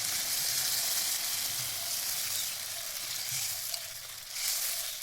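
Fish curry sizzling and frying in a pan over a village clay stove beside a riverbank, a steady close hiss of hot oil that dips briefly and then swells again, with no talking.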